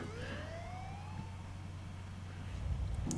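A police siren in GTA San Andreas sweeps upward, faint and distant over a low engine hum, with a short louder rumble near the end.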